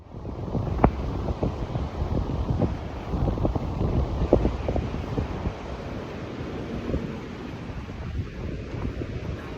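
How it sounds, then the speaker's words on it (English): Gusty wind buffets the microphone at the beach, rumbling loud at first and then easing into a steadier, softer rush. "At the beach. It's windy outside."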